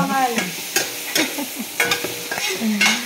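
Shrimp, small crabs, mussels and bacon sizzle and get stirred in a hot pan, with spatula scrapes that come in irregular strokes over a steady close frying hiss.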